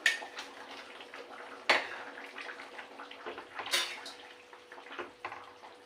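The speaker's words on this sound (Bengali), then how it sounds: "এবারে তরকারির ঝোলটা ফুটে গেছে তো আমি এতে এবার মাছগুলো আর পাতাগুলোকে দিয়ে দেবো" Fish pieces and gourd leaves go into a pot of boiling curry, with scattered clinks of a utensil against the pot and soft wet splashes between quieter moments.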